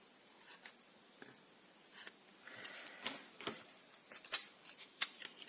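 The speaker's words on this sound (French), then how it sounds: "Je vais juste par contre couper un peu là" Scissors cutting paper for a handmade wedding-themed card: a few quiet, close snips at first, then a quicker run of sharper crisp cuts toward the end, in a quiet room without talk.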